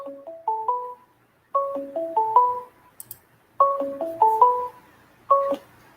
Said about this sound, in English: Why is it ringing and not letting me?